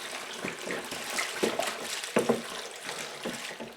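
Water is poured from a jug into a pail to cover parsnips and rutabagas, giving a close, gurgling splash that comes in uneven surges and ends in a few heavier glugs.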